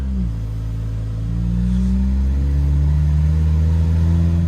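A Honda car engine heard from inside while driving, a loud, steady low drone that rises slightly in pitch as it pulls, continuous throughout with no talking.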